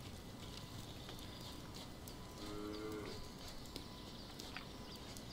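A cow moos in the farming video game Force of Nature, a short low lowing call that sits faintly under steady background ambience and game sounds.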